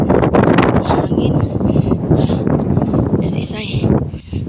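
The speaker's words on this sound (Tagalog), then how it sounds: "Hangin." Strong gusting wind buffets the microphone on a mountain trail up Mt. Paming, a loud continuous roar with rustling under it.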